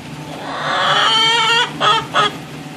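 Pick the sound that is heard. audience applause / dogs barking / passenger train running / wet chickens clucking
wet chickens clucking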